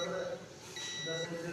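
A multimeter continuity test on an alternator stator gives a steady electronic beep, a thin high tone that holds for about half a second over a constant background hum.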